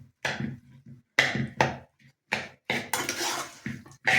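Garlic rice being mixed in a pot with a metal spoon, a series of distinct clanks and scrapes against the pot in irregular bursts separated by short silences.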